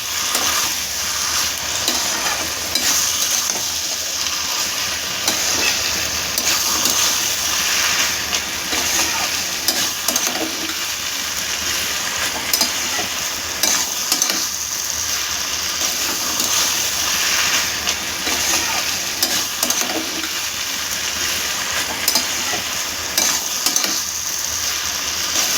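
Red amaranth greens being stirred and fried in a pan for a Bengali chorchori, with a steady close sizzle and hiss that runs throughout and faint scraping from the stirring.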